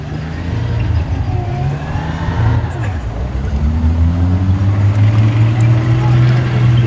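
A heavy tank engine drones and revs, its low pitch rising steadily as it gains power, loud and close throughout.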